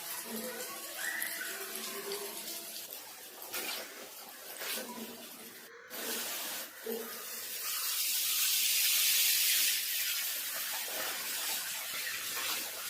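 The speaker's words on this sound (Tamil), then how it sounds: "இந்த நேந்திரங்காய் எல்லாத்தையும் எண்ணெயில் போட்டு பொறிச்சு எடுத்துடலாம்" Sliced Nendran banana is deep-frying in hot oil, giving a steady hiss and sizzle that swells louder partway through, with a voice talking over it early on.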